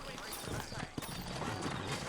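Horse hooves clip-clop in the Western video game Red Dead Redemption, a steady walking rhythm heard faintly beneath a voice, with a brief whinny mixed in.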